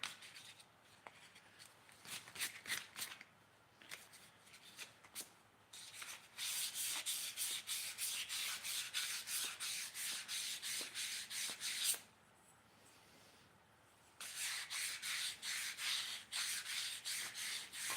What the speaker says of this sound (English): Yes, I'm polishing my goblet.